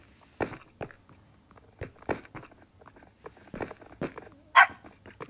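Minecraft wolves bark in short, separate yaps at varying distances, scattered irregularly across a quiet game background with no talk.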